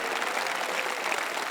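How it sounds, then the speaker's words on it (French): Applause from a large church congregation, a dense, steady wash of many hands clapping that fills the whole moment with no talking. "Voulez-vous applaudir?"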